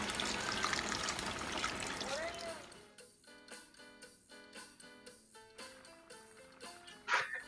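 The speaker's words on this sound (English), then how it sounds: "I want to add the water till it covers the top of the rice." Water pours steadily into a pot of rice for Spanish rice, a rushing splash for about three seconds. Then come quiet scattered drips and light clinks in a near-silent kitchen.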